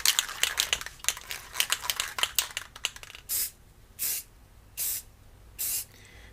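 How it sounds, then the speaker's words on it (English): Spray paint mists lightly onto an AR rifle from about 18 inches away in four separate short hisses, each about half a second long with even pauses between them, following a stretch of clicking and rustling handling. "just spraying it oh so gently"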